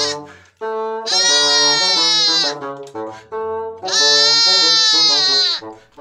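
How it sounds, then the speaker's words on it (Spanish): A lamb bleats loudly and close in long wavering cries, two sustained calls with shorter bleats between, standing alone without other sounds. "El corderito respondió y sus balidos sonaron como si se estuviera riendo."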